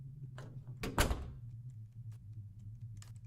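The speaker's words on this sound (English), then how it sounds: "Unlock the door." A door unlocks in The Crooked Man horror game with a short, fairly loud clunk and rattle of the lock and handle, followed by quiet room tone.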